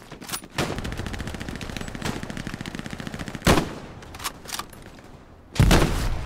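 Rapid automatic gunfire in the WWII shooter Hell Let Loose, a sustained loud burst of machine-gun fire with a few heavier thumping shots and a closing loud blast.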